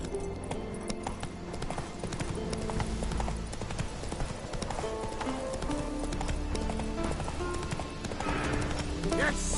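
A horse gallops in The Witcher 3, its rapid hoofbeats drumming steadily and close, with game music and a voice speaking over the rhythm.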